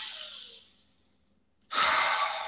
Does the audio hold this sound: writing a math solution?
no